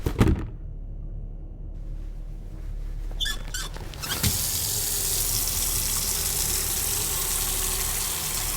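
Water runs from a tap into a container in a forensic lab in Autopsy Simulator, a short clatter giving way to a steady, loud, close rush of filling that continues without speech.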